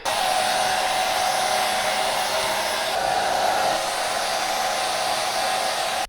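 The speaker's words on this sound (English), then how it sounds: "And they did give us a hairdryer." A hair dryer runs steadily and loudly at close range for several seconds, blowing to dry wet belongings in a lodging along the Nakasendo trail, with no talking.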